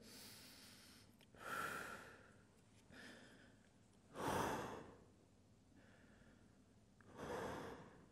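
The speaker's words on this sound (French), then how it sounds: "On va faire 5 respirations complètes." Deep, full breaths during an exercise cool-down, three slow audible inhale-exhale cycles spaced a few seconds apart, close and quiet.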